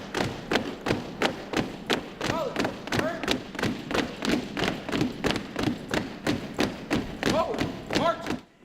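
Marching feet at an enlistee ceremony, a steady rhythm of about twenty dull thuds stepping in unison, fairly close, with faint voices between steps.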